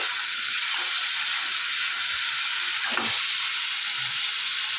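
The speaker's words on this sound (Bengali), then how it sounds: "আমটাকে খুব ভালো করে কিন্তু আমরা ভাজা ভাজা করে নিচ্ছি দেখো এখানে" Raw mango pieces fry in a pan, giving a steady, close sizzling hiss that runs throughout with a faint stirring bump near the middle and no talking.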